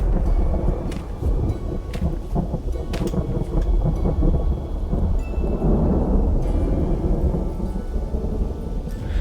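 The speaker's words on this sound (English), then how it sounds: "The lightning, the storms in general sound so real in this game." Thunderstorm in the video game Vintage Story: steady heavy rain with rolling, rumbling thunder throughout and several sharp crackling strikes, loud and close, without speech.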